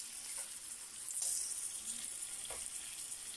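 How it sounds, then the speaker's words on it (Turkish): Fresh green beans fry in hot oil in a pan with a steady, soft sizzle and faint crackle throughout, plus a few light stirring scrapes. "Fasulyelerin tamamı bitene kadar aynı şekilde kızartıyorum."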